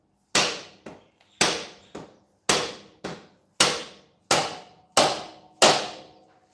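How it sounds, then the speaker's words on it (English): A dead blow hammer knocks a stiff pin out of a Yamaha XS250 motorcycle, about a dozen sharp, close, loud blows landing in uneven pairs and singles, each ringing briefly before fading. "We'll need a hammer for that one. Trusty dead blow hammer"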